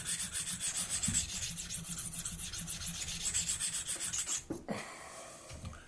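A single-bevel broadhead blade rubbed back and forth on a KME sharpening stone, a quick regular rasping stroke pattern, close and fairly quiet, fading to softer scrapes near the end, no talk.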